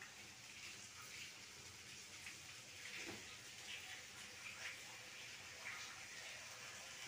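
Steady rain falls continuously outdoors in an Odia village setting, a broad even hiss of water with faint scattered drips and splashes, no voices present.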